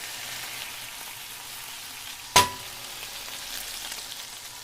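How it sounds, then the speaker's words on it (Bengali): Beaten egg seasoned with a little salt fries in a pan, giving a faint, even sizzle throughout with a single sharp knock of a utensil partway through. "ডিমটা ভাজা হয়ে গেছে"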